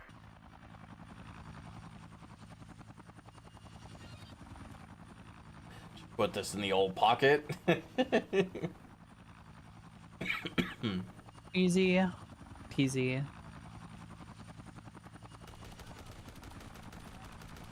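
A helicopter in the zombie video game Dead Rising drones faintly and steadily in the background, with bursts of gunfire and impact sounds in the middle and someone talking over it.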